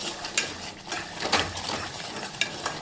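Ground spices (chili powder, salt, turmeric, coriander powder and garam masala) sauté in hot oil, giving a soft, close sizzle with scattered light scrapes and clinks of a spoon stirring in the pan, with no talking.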